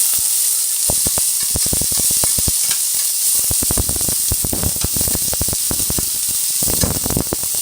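Onion and peppers sautéing for chicken quesadillas, a loud close sizzle with frequent sharp crackles and spits popping throughout, alone without talking.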